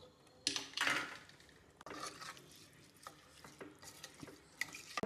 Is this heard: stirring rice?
yes